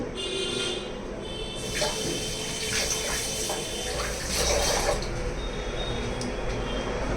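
Tap water runs steadily over green chillies being rinsed at a kitchen sink, a continuous close splashing stream with small surges as the chillies are moved under the flow.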